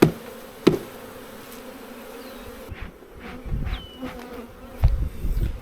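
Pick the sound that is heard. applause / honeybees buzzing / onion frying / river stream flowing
honeybees buzzing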